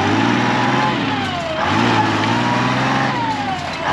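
A farm truck with weights loaded for planting drives under load, its engine droning loudly and close, rising and dipping slightly in pitch as it pulls.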